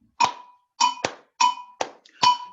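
Percussion in an African music lesson: a pattern of struck metallic clangs and drum-like thunks, two hits per pair repeating evenly, loud and close, with no talking.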